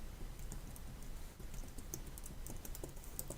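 Quiet, steady typing on a computer keyboard while a branch name is entered, a continuous run of light clicking keystrokes with no talk.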